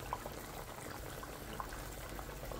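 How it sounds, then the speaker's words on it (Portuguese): Pork meat frying in lard in a pan, a steady dense sizzle with scattered small pops and crackles, close and continuous throughout. "Agora ela já está fritando."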